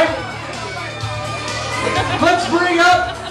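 Crowd at a club comedy show cheering and whooping in a dense, loud roar of voices that swells toward the end, with shouts rising over the din.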